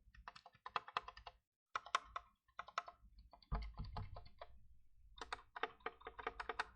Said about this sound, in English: that's the sound of the keys